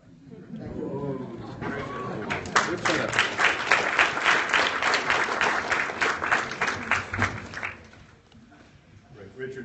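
Audience applause after a lecture on Cuba at the Carter Presidential Library in Atlanta swells into a dense, steady clapping for several seconds, then fades, with chatter and voices mixed underneath.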